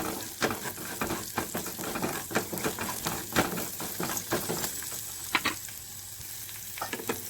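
Green peas frying in a pan crackle and sizzle close up, with repeated popping spatters and stirring scrapes forming an uneven rhythm over a steady hiss.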